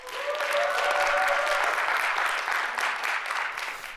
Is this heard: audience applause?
yes